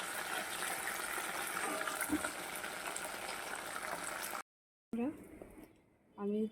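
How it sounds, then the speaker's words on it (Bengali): Loitta (Bombay duck) fish frying in hot oil, with a steady dense sizzle for several seconds, then a sudden cut to quieter sounds where a voice speaks. "এইভাবে সমস্ত মাছগুলো আমি ভেজে দিচ্ছি"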